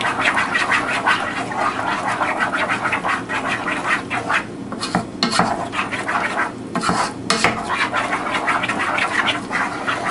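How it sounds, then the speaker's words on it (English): A wooden spoon stirs beer cheese in a pot until melted, giving continuous scraping and stirring strokes with brief pauses, close and clear throughout. "I've got a wooden spoon over here. We want to stir that until the cheese is just melted."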